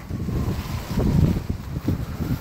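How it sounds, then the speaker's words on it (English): A strong gust of wind roars and rumbles against the microphone, moving trees, swelling and easing in waves over a couple of seconds. "that's one of our bigger gusts right now"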